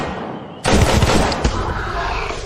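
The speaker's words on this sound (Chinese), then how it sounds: "这是枪声" Gunfire erupts suddenly in a dramatic scene, a loud burst of several close shots followed by sustained noisy rumble and echo.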